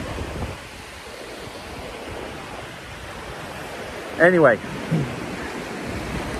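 Sea waves and wind roar steadily while someone films in the sea, a dense, continuous wash close to the microphone; a person speaks a brief word partway through.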